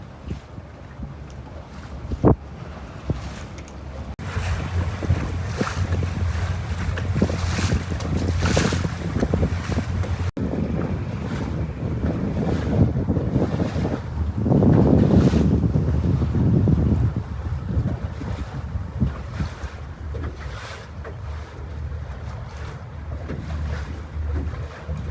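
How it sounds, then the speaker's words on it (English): Gusting wind buffets a river catamaran houseboat underway, a steady roaring rush with swelling gusts over low engine hum and water noise, loud and continuous throughout. "wind starting to get up. We're getting about 10-15 miles an hour with higher gusts."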